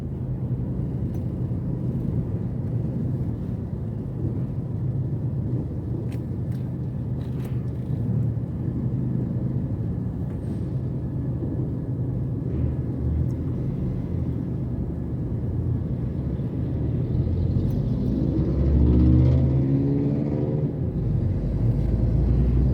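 Steady road rumble from a car in slow, congested traffic, a continuous low drone with a passing engine swelling louder near the end.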